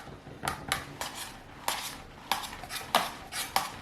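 Acrylic table mats pressed onto soap dough give a series of sharp plastic clacks and taps at an irregular pace, close and fairly clear, with no talking.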